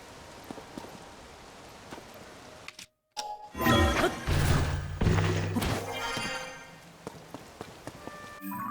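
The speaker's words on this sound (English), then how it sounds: "Now it's all raining." Patter of rain in the video game Tears of the Kingdom, scattered drops and thuds on a surface, interrupted by a brief dropout, then louder layered game sounds and tones.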